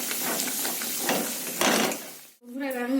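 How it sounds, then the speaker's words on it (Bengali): Cumin, coriander and turmeric sizzle and hiss as they are sautéed in a pan, a steady broad frying noise with stirring, followed by a brief voice near the end. "দিয়ে মশলাটাকে ভালো করে কষাবো।"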